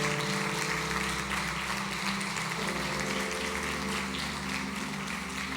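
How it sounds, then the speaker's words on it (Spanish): Audience at a church talk in San Luis Potosí clapping in a steady, moderate wash of applause that carries evenly throughout, heard from a distance in a reverberant hall with no talking. "Le damos un aplauso a esta señorita que es valiente."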